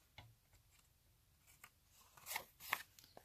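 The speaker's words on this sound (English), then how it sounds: "And then I'm going to trim the four corners because I always like to cut off those little nubs" Scissors snip the corners off a glued paper card for a junk journal made from a repurposed hardcover book, a few faint, quiet cuts building to two crisper snips near the end.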